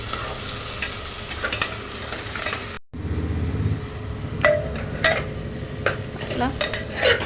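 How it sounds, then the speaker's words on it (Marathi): Onion sautéed in a pan with peas and peanuts, loud sizzling frying with spoon stirring and occasional scrapes and clinks against the pan, broken by a brief cut. "आता कांदा छान आपण परतून घेऊया"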